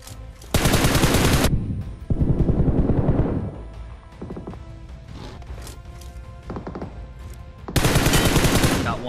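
Gunfire in PUBG Mobile: loud, close automatic bursts at the start and end, with a shorter burst and scattered fainter distant shots in between.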